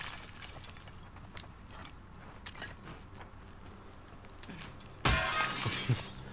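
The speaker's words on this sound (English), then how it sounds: "we're just breaking all the glass" Glass shatters in the video game The Last of Us Part II, a single loud crash with scattering shards arriving suddenly after several seconds of quiet ambient game sound.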